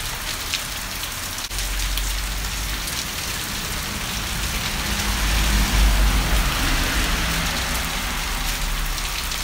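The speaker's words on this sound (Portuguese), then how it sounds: "E o toró é pesado, pessoal." Heavy rain pours down at night in São José da Tapera, a loud, steady downpour drumming on surfaces with a low rumble underneath, continuous and close, no talking.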